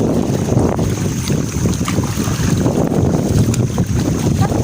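A small boat crossing water to a small island on a windy day, with a constant engine-like rumble, wind buffeting and splashing, loud and close.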